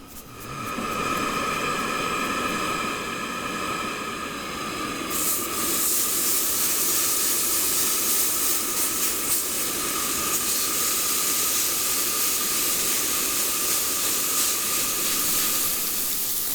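Steaks sear in a smoking-hot skillet at a campsite, giving a steady, loud hiss and spitting sizzle that holds unbroken from start to finish, close up and without speech.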